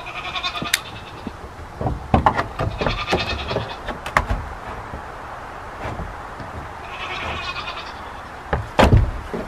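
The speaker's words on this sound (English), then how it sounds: "Little goats?" Goats bleating several times at close range, with knocks and rattling of a sliding door between calls.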